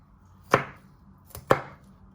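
A knife cuts food on a cutting board for chicken Kievs and roasted vegetables, giving two sharp, close chops about a second apart against a quiet background.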